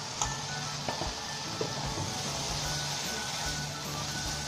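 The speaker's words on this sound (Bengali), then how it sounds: "এখন আমরা ভেজে রাখা আলুগুলো দিয়ে দিচ্ছি।" Fried potatoes go into a pan of sizzling spices while cooking a Bengali koi fish bhuna, giving a steady, moderate frying hiss with a few soft clinks and stirring knocks.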